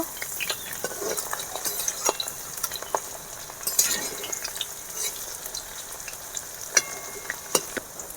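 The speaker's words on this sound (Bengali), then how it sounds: "তেল গরম হয়ে গেছে এবারে আমি অল্প অল্প করে ঢ্যাঁড়সগুলো ভেজে নেবো এবারে আমি উল্টিয়ে নেব" Okra pieces fry in hot oil and are turned over, giving a continuous light sizzle broken by scattered utensil clicks and scrapes close by.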